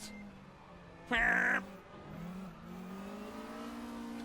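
A short, loud burst of a Group 2 Volkswagen Scirocco race car engine revving in the racing game RaceRoom rises sharply for about half a second, then settles into a lower steady engine drone.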